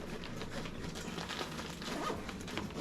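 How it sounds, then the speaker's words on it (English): Quick zipper pulls close a small kit bag up close, a soft rasping run of teeth over a few seconds amid light fabric handling. "A couple of quick zippers here."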